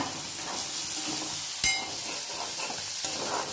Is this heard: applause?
no